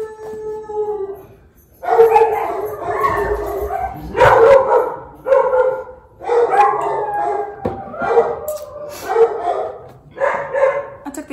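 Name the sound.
dogs barking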